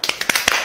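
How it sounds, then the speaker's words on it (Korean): A short run of about six quick, sharp hand claps, close and fairly loud, in an interview with a teenage CEO about side-business earnings. "박수를 안 칠 수 없죠"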